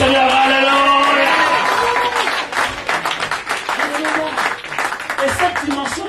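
A church congregation acclaims the Lord with loud, sustained applause and cheering, a dense crowd roar mixed with clapping and raised voices that fills the room before gradually thinning.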